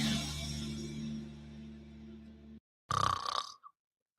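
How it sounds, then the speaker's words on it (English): Snoring in a sleep apnea advertisement: a long, steady rasping drone fills the first two and a half seconds, then breaks off, followed by a short, louder snort-like burst with a tonal whistle before silence. "Is your spouse's snoring becoming an issue?"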